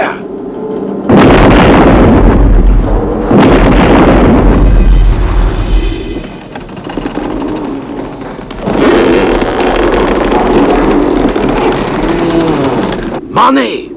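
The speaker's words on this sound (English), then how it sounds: "Sir, they've shelled the bridge." Heavy artillery shelling of a bridge as a television sound effect: deep booming blasts and rumbling explosions fill the scene, loud and close, with shouting voices over the bombardment.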